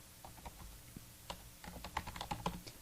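Soft, irregular keystrokes on a computer keyboard while entering a database query in software, coming in quick clusters of clicks that grow busier toward the end, close and fairly quiet with no voices.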